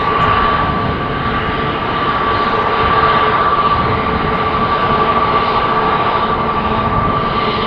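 Airbus airliner in Star Alliance livery at Amsterdam Schiphol Airport, its engines giving a steady, loud broadband roar with a sustained tonal whine, holding constant throughout.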